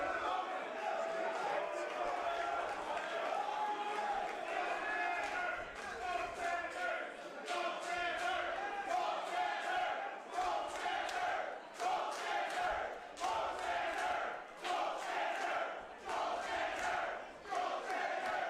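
Pro wrestling crowd at a live match, a loud arena roar with rhythmic chanting and swelling cheers, an announcer's voice talking over it.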